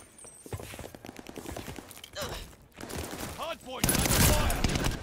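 Call of Duty Vanguard match with rapid bursts of automatic gunfire, loud and crackling, broken by brief pauses, with footstep-like clatter and a faint voice in between.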